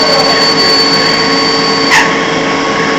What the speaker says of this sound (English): Now you can see here, this is a pretty big long drill in there.